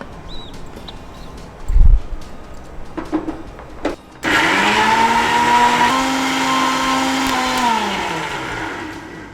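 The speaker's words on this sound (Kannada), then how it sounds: "ಇದನ್ನು ಗ್ರೈಂಡ್ ಮಾಡ್ಲಿಯಾ? ಗ್ರೈಂಡ್ ಮಾಡಿ." A mixer grinder blends watermelon for juice, starting with a sudden loud motor whine that holds steady and close for about five seconds, its pitch dipping slightly as the blades work through the fruit, after a few soft kitchen knocks.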